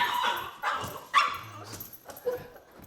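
A dog excitedly barking and yipping in short bursts, with a whimper mixed in, fairly close and moderately loud in a home setting.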